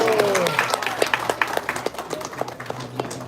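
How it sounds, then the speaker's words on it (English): Audience applause at a children's annual day celebration, scattered irregular claps fading over a few seconds, mixed with crowd noise and a voice speaking. "Big round of applause."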